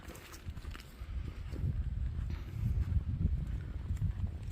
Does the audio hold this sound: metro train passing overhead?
no